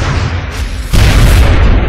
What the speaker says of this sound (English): More explosions, always fun to see.